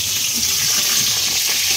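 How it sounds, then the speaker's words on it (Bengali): Potatoes frying in oil for a meat curry give a steady, close hiss and sizzle that carries on without a break, with no talk over it. "এদিকে মাংসের জন্য আলু ভাজা হচ্ছে।"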